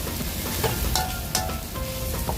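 Frog pieces stir-fried with kaffir lime leaves and big chilies, a steady close sizzle with the scrape of a spatula against the pan, no voices.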